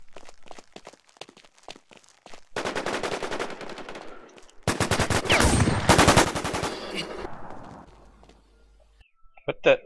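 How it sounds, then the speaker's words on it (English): Shotgun blasts and gunfire in the video game War Inc Battlezone during a bunker sabotage match, with two loud close bursts of rapid shots and lighter clicks and footsteps around them, while players talk. "I blew him away with a shotgun"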